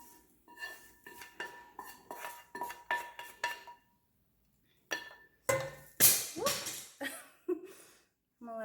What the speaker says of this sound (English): we want to mix the onion with the potatoes